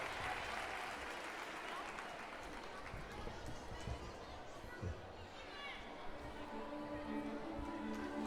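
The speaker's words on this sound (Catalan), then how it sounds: "Aplaudiment. Més fort!" Applause from an audience at a school end-of-year party, a dense continuous patter of many hands clapping at moderate distance, with crowd chatter mixed in.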